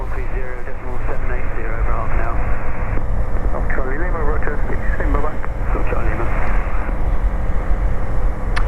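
A light aircraft taking off from runway 02 at North Weald, with the wind down the runway, makes a steady low engine drone under continuous talk in the cockpit.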